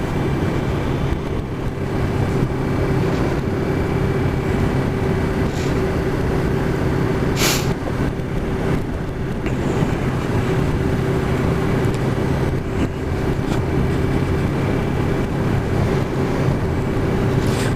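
Steady low exhaust growl from a Yamaha MT03 300cc motorcycle holding about 40 mph in sixth gear around 4,000 RPM, heard up close and unbroken, with a few faint clicks and rustles over the drone.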